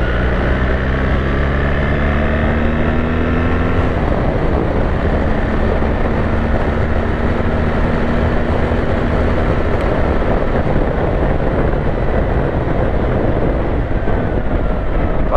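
A 2024 BMW R 1300 GS motorcycle being ridden, its engine a loud, continuous drone mixed with heavy wind rush, with a brief pitch shift early on, as if changing speed, and no speech.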